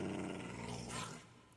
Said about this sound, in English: Where'd the dog come from?